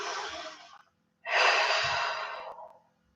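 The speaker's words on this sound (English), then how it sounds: "Holding here, a few deep breaths." Slow, deep breaths held in a yoga chair pose: a long airy exhale, a silent pause, then a second fuller breath that fades out, close and alone.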